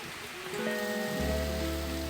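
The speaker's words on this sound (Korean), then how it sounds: "요즘 피지는 우기인 탓에 비가 내리고 있었는데요." Steady rain falling on election day in Fiji during the rainy season, a continuous wash of patter on surfaces, with a low droning hum and tonal tones rising beneath it.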